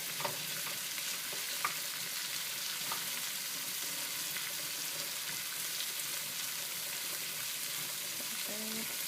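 Onions frying in a pan for baked potatoes with caramelized onions, a steady, even sizzle with occasional stirring scrapes throughout and no talk.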